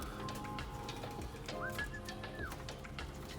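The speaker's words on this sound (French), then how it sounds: "J'ai servi et j'ai sifflé pour qu'ils viennent manger." A person whistles a single rising, sustained note to call racing pigeons to their morning feed in a loft, heard over soft ambient noise and faint bird sounds.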